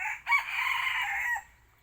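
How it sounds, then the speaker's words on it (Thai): A rooster crows once, a single drawn-out call that sounds fairly close and stands clear against a quiet background. "เสียงไก่"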